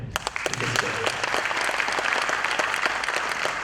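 Sustained applause from a large audience at a public speech event in Thrissur, dense steady clapping throughout with a few louder claps near the start.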